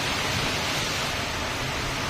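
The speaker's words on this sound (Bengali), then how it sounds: "কি জোর বৃষ্টি নেমেছে" Heavy rain pours down in a dense, unbroken hiss, loud and even throughout, with no voices.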